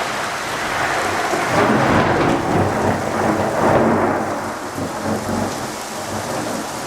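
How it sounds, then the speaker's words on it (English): Heavy rain pours steadily while deep thunder rumbles loud and continuous underneath, building and easing slightly, with no voices. "But the thunder's quite loud."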